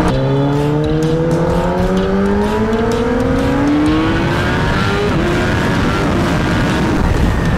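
A Kawasaki Ninja ZX-10R sport motorcycle rated at 204 BHP accelerates hard through the gears, its high-revving engine whine rising in pitch with each gear, loud and close over steady wind roar.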